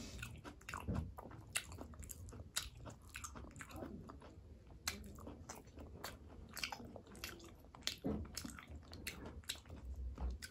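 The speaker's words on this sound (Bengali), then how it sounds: "ফ্যাসা মাছের যা কাটা, অত বাছা যাবে না। চিবিয়ে খেয়ে নিতে হবে।" Someone eats fasha fish with its bones and rice, producing close, quiet chewing and crunching sounds with soft wet clicks scattered irregularly throughout.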